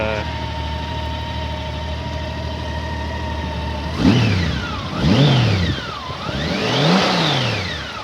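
A 2002 Honda Gold Wing GL1800 motorcycle engine idles steadily, then revs up sharply three times in rising and falling sweeps, loud and close.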